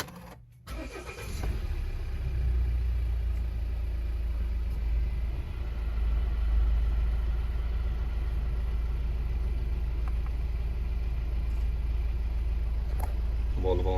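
A Volvo car engine cranks briefly and catches, then settles into a steady, low, close idle that hums on evenly with no other activity.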